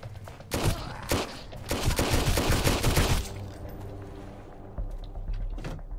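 Shotgun blasts in the survival video game Sunkenland, several loud, close booming shots in quick succession over about three seconds, followed by quieter ambient game sound.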